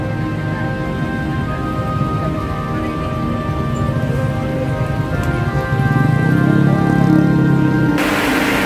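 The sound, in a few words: rain falling on an irrigation canal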